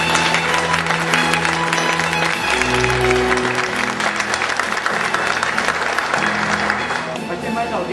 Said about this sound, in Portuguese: Mas uma salva de palmas para esses queridos irmãos.